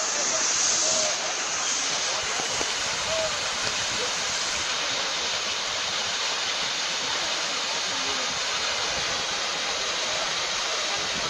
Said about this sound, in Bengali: যে ঝর্ণাটা একটু তোমাদের ক্লোজ ভিউ দিচ্ছি, দেখো ক্লোজ ভিউতে।